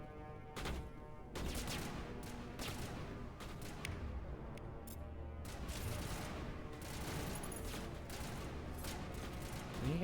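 Dense bursts of gunfire from a Mass Effect firefight crackle and boom almost without pause, loud and close, with occasional voices faintly underneath.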